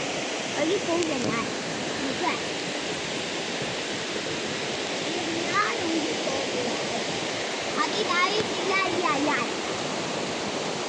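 A village stream in Kerala rushes with a strong current, a steady loud broadband wash of flowing water that continues throughout, with voices and faint birdsong partly audible beneath it.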